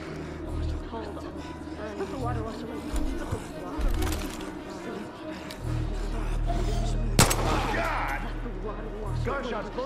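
Scattered gunshots crack in the video game Far Cry 5 amid a busy mix of voices, engine rumble and clatter, with one sharp loud shot standing out near the end.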